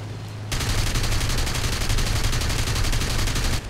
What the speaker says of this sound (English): You can see the cannon does pack a bit more of a punch than the machine gun.